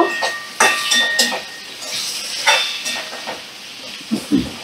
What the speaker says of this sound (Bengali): এবার সব মশলা আমি ভালো করে সবজির সাথে কষিয়ে নেব